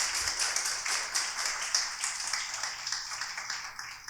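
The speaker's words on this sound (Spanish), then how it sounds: "Un fuerte aplauso para ellos" A crowd applauds steadily, many hands clapping in a dense, continuous patter without voices.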